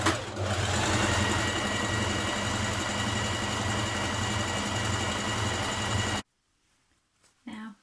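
A sewing machine runs steadily for about six seconds, stitching a curved seam on a Simplicity 8560 sports bra top. It ends abruptly, leaving near silence and then a short soft noise.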